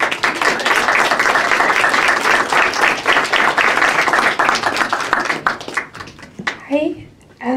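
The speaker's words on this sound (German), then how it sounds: "Herzlichen Applaus für Ida." Lively clapping and applause from a spoken word poetry audience at a Bochum cultural centre, dense and close for most of the stretch, then tapering into a few final claps as a voice begins.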